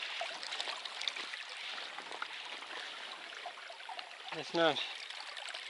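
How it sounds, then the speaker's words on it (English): A small wilderness creek flows steadily at a rope-assisted crossing, a broad constant rush of water close by. A brief spoken phrase cuts in near the end. "I have this little creek crossing."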